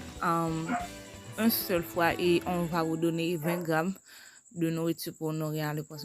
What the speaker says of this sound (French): il y a des chiots